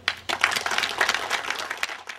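An outdoor crowd applauds the mayor at the inauguration of the newly paved El Sauce road in Colonia Kennedy. The clapping is steady, dense and fairly close, starts after a brief quiet lull and holds to the end.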